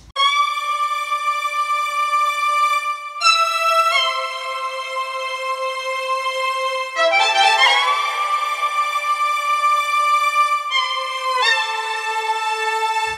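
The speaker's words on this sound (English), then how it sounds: "Right there I have like a funky type of string lead" A funky synth string lead plays a sustained, bright harmonic line with a few note changes and pitch bends, steady and loud on its own with no talking.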